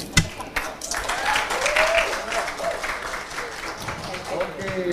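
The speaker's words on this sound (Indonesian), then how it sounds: "terima kasih tepuk tangan sekali lagi Rocky Gerung." Audience applause follows a speech by Rocky Gerung on popular sovereignty in Indonesia. Steady crowd clapping with cheers continues for about five seconds, loud and close, with voices mixed in.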